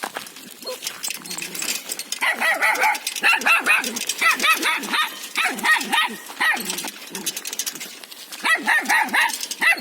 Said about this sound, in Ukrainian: От собачок гавкає.